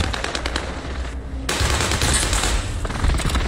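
Automatic gunfire from the Call of Duty video game, a dense, loud stream of rapid shots that briefly thins out, then returns as heavier sustained fire over the rest of the clip.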